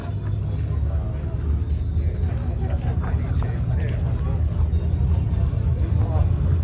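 An off-road race vehicle passing at Hammer Town, a continuous low engine rumble that swells gradually and stays loud, with a person talking over it.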